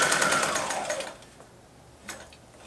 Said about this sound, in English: To start, just do a straight stitch.